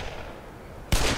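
Gunfire aimed at soldiers in the Black Mesa video game: a single loud, abrupt shot bursts out near the end after a stretch of quiet background hum, with no voices.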